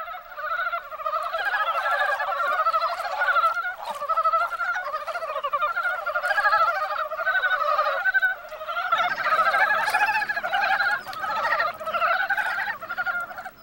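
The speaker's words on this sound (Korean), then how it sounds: "수컷들의 울음은 우렁차고 줄기차다." Loud, continuous chorus of male frogs croaking close by at a mountain valley stream in spring, many overlapping rapid calls with no pause, swelling slightly toward the end.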